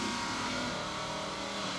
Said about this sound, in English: T.D. nails the tree with his usual precision, but Kurt's cubes charge from the rear and overtake him.